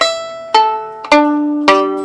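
A violin plays a few bright, high notes one after another, each sharply started and ringing, heard solo and up close.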